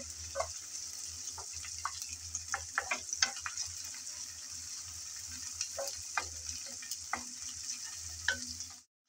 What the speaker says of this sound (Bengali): আদা রসুন পেঁয়াজ আবারও একটু নেড়ে চেড়ে ভেজে নেব